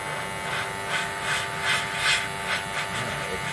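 SHANGSE cordless rechargeable airbrush with a disposable nozzle spraying paint, a steady high hiss with a faint motor whine, rising and falling in short pulses as bursts are released, close and continuous.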